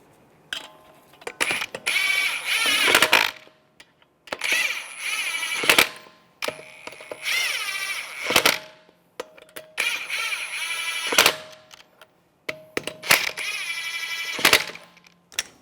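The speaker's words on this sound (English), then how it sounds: "Put the wheel on, line it up, get the lug nuts started." Lug nuts being started on the front wheel of a 2011-2015 Chevrolet Cruze: five separate bursts of rapid ratcheting clicks spinning the nuts on, loud and close with short pauses between.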